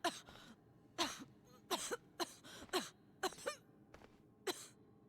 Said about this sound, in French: Ça tousse encore.